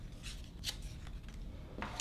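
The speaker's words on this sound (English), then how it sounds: "this is a perfect place to practice doing this technique of curling with your scissors" Scissors draw along strips of crepe paper to curl them, producing a few faint, close crisp swishing scrapes in a quiet room.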